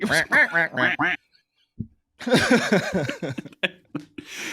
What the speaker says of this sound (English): Give me some quacks.